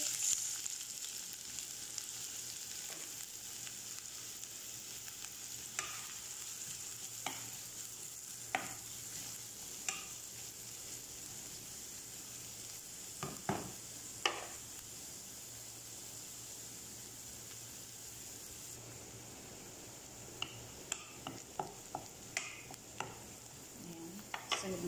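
Onion fries in hot oil in a pan with a quiet, steady sizzle, and a utensil scrapes and taps against the pan now and then throughout.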